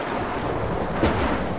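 Steady rain hiss in the Tomb Raider Definitive Edition game, with a low thunder rumble swelling just past the midpoint; continuous, moderately loud ambience with no voices.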